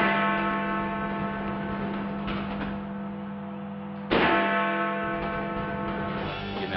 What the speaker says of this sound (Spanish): escuchaban las 12 campanadas del Big Ben